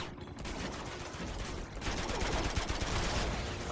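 Sustained gunfire from a third-person action shooter, Uncharted 2: Among Thieves, a dense rattling stream of overlapping shots that swells louder after the first couple of seconds and carries on without letup.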